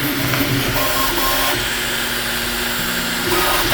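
A 3D printer printing a prototype part for a coffee dispenser makes a steady, loud mechanical whir and hum with faint shifting motor tones, heard close and continuous, with no talking.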